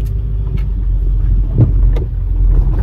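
A 2005 Acura TL pulling away under its own power after a transmission filter replacement, a close steady engine rumble with a slight rise in effort, no talking.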